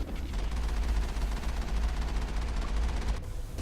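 Gunfire in the Mass Effect game, with rapid bursts of shots over a dense, low rumbling battle din, loud and continuous, with no talk.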